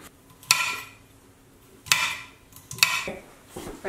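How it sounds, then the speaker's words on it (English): A knife chopping garlic on a cutting board, three sharp, clacking knife strikes spaced about a second apart, close and clear with quiet pauses between them. "Now we gotta chop up the garlic."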